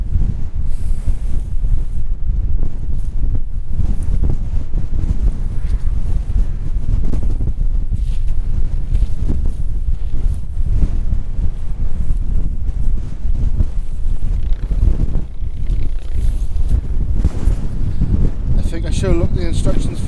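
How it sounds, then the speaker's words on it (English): Strong gusty wind buffets the microphone with a continuous loud rumble on an exposed hilltop while a four-season two-person tent is being looked over; it roars steadily for the whole stretch with no clear talk over it. "once again, guys, I'm really sorry about the wind noise."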